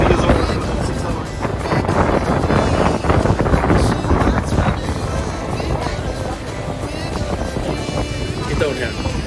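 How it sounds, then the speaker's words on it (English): Strong wind roars continuously across the microphone outdoors, a loud, steady rushing buffet with no pause, heard where sailing was expected, with a voice briefly present. "Flying wind blowing over here now."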